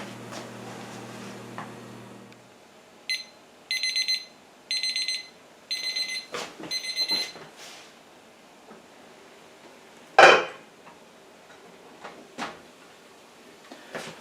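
In a home kitchen, a timer set for steaming vegetables gives several short bursts of high beeping, with quiet clatter before and a sharp knock afterward.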